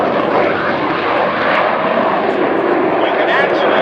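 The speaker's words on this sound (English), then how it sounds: "There's the burner." An F-16 Fighting Falcon making an afterburner flyby at an air show, a loud, continuous broadband jet roar filling the whole stretch with no break.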